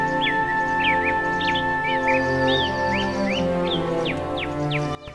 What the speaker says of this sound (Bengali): শুনতে পারবেন পাখিদের কিচিরমিচির ডাক,